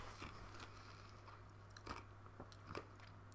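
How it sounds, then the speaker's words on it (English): Ice being crunched between the teeth, a few sharp bites standing out over a steady low hum, near and fairly quiet. "I'd love to crunch a bit of ice."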